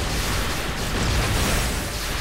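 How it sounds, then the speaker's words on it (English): An explosion in the Touhou Gouyoku Ibun fighting game booms as a loud, dense, sustained roar of rumbling noise that holds steady across the whole span, with no voices over it. "what was that explosion?"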